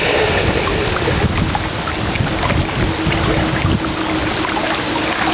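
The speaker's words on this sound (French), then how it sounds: "le vent commence à forcir un peu là" Strong wind gusting over the Rhône river during a feeder fishing session, a continuous loud roar and buffeting against the microphone with water noise beneath, no voices.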